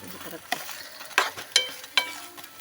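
Beef and broccoli sautéing in a pan, a soft sizzle broken by four sharp stirring clanks and scrapes spaced about half a second apart, close and fairly quiet.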